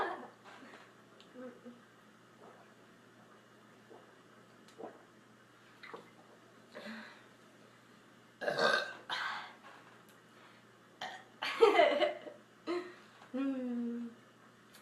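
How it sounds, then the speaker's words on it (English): A person burping after drinking Sierra Mist soda, several short, fairly faint gulping belches spread irregularly through a quiet indoor stretch, with a pair of louder bursts near the middle and end. "I'm drinking Sierra Mist. I'm gonna burp my butt off."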